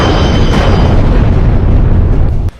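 Loud, sustained explosive roar with a dense rumbling boom, ending abruptly, as a fighter jet is shot down.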